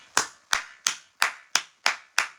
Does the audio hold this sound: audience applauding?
yes